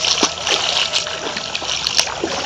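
Water splashes and sloshes close by as someone wades through a shallow, clear stream, with a steady rush broken by repeated splashy bursts from each step.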